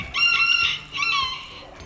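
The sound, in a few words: chickens crowing and clucking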